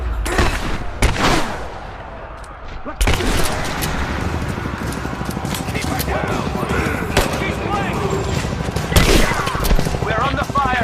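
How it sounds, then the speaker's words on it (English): Sustained gunfire in Rise of the Tomb Raider at the edge of a village, dense crackling volleys and heavy shots rolling on continuously, with voices shouting over the battle. "We're under fire at the edge of the village."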